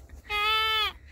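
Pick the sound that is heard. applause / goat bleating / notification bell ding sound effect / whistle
goat bleating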